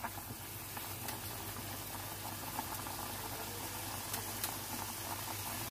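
Kofta curry with green chillies cooking on a high flame, with a soft continuous bubbling and sizzling hiss, fairly quiet and steady, with a few faint clicks and no voices.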